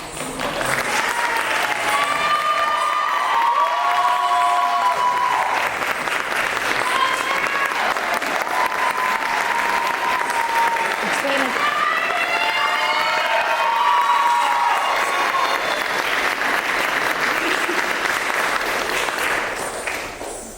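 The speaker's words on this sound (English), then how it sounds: "come and take a round of applause, please" Loud sustained applause from an audience at a school arts performance, steady clapping filling the whole stretch with cheering voices and children's shouts mixed in.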